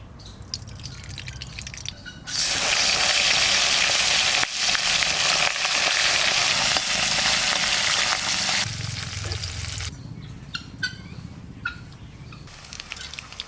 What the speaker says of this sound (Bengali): মাছ ভাজার জন্য তেল দিচ্ছি